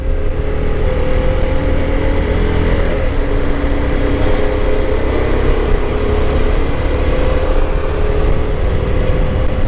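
A motorcycle engine drones steadily and loudly while riding through the Cascade-Siskiyou National Monument, with a constant mid-pitched hum and wind rush and no variation in speed.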